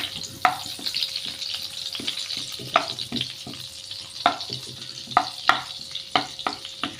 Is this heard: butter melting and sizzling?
yes